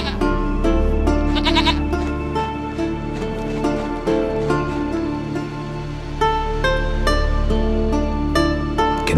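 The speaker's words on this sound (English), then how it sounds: "goat of mine, dearest, sweetest goat" A goat bleats several times in The Witcher 3 video game, its calls standing out over a steady, loud bed of layered game music and ambience.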